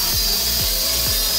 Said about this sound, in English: I'm going to do it probably with a cutoff wheel just to try to not get it too hot and melt the urethane